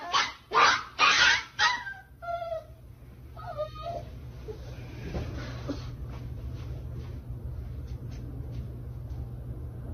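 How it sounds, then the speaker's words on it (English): A three-month-old puppy yelps and screams in pain in a burst of sharp, loud cries over the first few seconds, then trails off into fainter whimpers against a low background hum. "of the dog screaming and yelping in pain with what sounds like her striking it"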